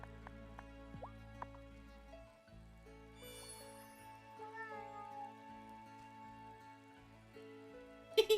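A cat in the Wylde Flowers game meows a few times, brief and fairly close, over soft background music.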